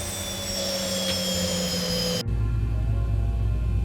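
A loud, steady jet engine whine with high tones cuts off abruptly, leaving a lower, rougher engine rumble as it winds down, as engines 1 and 2 shut down in X-Plane 11 flight simulator.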